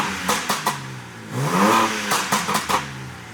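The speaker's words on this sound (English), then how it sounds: "Start revving it." BMW G82 M4 with installed downpipes and a Stage 2 tune, revved in short repeated blips followed by one longer, rising rev, loud and close, with no talk over it.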